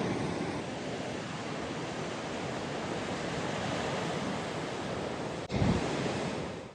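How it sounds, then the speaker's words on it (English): Ocean surf breaks at a beach near Aireys Inlet, a steady broad roar of waves and wind that holds for several seconds, with a sharp knock near the end and no voices. "Those waves look pretty good."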